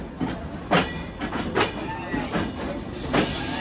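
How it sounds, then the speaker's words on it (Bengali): The Rupashi Bangla Express rolls out of Jessore toward Benapole with rhythmic clickety-clack of wheels over rail joints, steady and fairly close, with a voice faintly audible underneath. "আমাদের ট্রেন ছেড়ে দিচ্ছে যশোর থেকে বেনাপোলের উদ্দেশ্যে"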